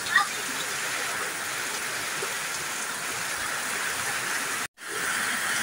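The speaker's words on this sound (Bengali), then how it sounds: "ভালোই বৃষ্টি শুরু হয়েছে গাইস।" Steady rain pours down outdoors, a dense, even hiss of falling water that holds constant, briefly cuts out near the end, then resumes.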